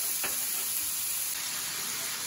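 Organic ground beef sizzling on a Blackstone 17-inch E Series electric griddle, a steady soft hiss of frying that holds evenly throughout with one brief scrape near the start.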